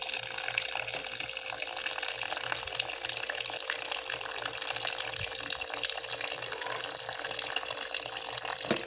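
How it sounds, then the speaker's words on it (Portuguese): Ice-cold water pours into a container in a home kitchen, a steady, close splashing stream that runs unbroken over a low hum. "Eu vou colocar água gelada aqui."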